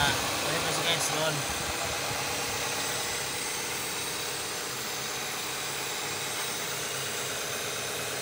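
A warm Honda CR-V engine idles steadily after its idle air control valve has been cleaned, a constant even hum and whir close by that holds without stalling, with a brief voice near the start.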